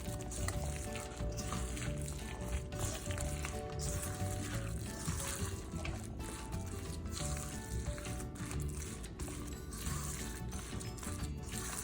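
Eggs are mixed into oatmeal coconut cookie batter in a bowl, a continuous close wet stirring and scraping texture that carries on steadily without pause.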